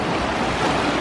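Lake Superior waves wash in a loud, steady, close rush, mixed with some wind, with no voices.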